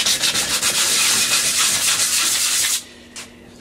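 A vending machine base is sanded by hand with 60 grit sandpaper in rapid back-and-forth rasping strokes, loud and close, which stop abruptly near the end followed by one short faint scrape.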